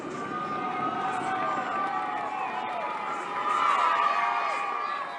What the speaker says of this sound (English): The crowd don't care it's raining.